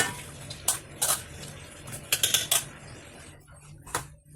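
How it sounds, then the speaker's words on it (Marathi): Chopped onion, cabbage, cucumber and tomato tossed with green chutney in a bowl for a green veg sandwich, giving a series of light utensil clinks and scrapes in short bursts, fairly close, with no talking. "आता आपण सँडविचसाठी मिक्स करणार आहोत भाज्या."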